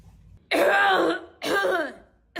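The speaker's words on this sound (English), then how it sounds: "Do you always have to clear your throat like this?" A person clears their throat twice in quick succession, loud and close, each a rough rasping burst of about a second, with a third starting at the end and quiet room noise in between.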